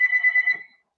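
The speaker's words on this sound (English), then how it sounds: "That's a phone ringing" A telephone rings in short repeated electronic trills, fairly loud and close, then stops and leaves silence, with no voices.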